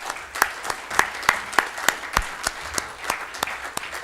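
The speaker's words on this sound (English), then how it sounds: "can I have a huge round of applause for our JIIF team" Audience applause for the JIIF team at a Gurugram start-up investing event, a moderate room of clapping with distinct individual claps popping out over a steady patter.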